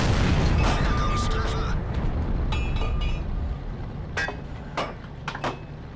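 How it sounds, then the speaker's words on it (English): A deep booming tank gunshot in a game, followed by a few sharper distant impacts over a steady low rumble, with someone talking. "the boom of this gun with this gunsight mod is amazing"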